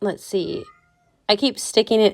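A cat meows loudly several times close by, drawn-out cries broken by a pause, while a person talks in between during a scrapbooking session.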